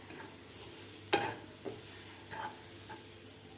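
Semolina (rava) stir-roasted in a pan, heard as faint scraping spoon strokes and a soft, dry sizzle, with one sharper scrape standing out; quiet and close, with no talking.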